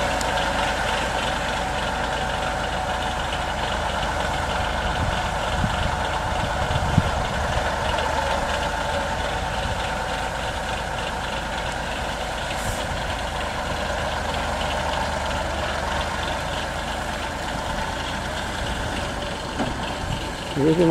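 A road grader levels sand on a road, its heavy engine droning steadily and evenly for about twenty seconds at moderate distance, with faint voices now and then.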